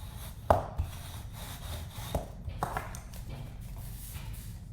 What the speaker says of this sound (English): I'm just gonna burnish this.